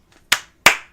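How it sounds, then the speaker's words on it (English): Hands clap three times in a crisp, loud sequence, each sharp smack ringing briefly before the next, with two faint taps just before the first clap. "that's me clapping just like Eric right there"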